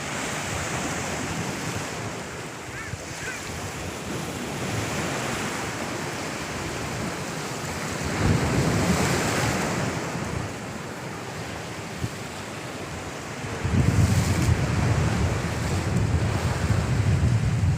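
Sea waves wash in continuously with a broad roar, surging louder midway and near the end, wind buffeting the microphone throughout.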